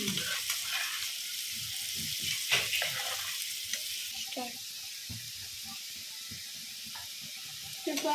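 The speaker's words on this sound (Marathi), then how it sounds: "आणि आपले पीस केलेले परतून घ्यायचे आहे" Raw banana slices sautéing in a little oil in a pan, a steady soft sizzle running throughout with occasional stirring clinks and scrapes.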